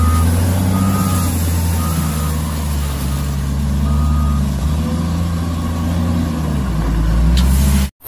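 Wheel loader reversing beeps over a steady, loud diesel engine drone, with the construction machine running continuously before the sound cuts off abruptly.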